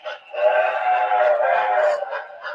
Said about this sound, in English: so get control of the whistle here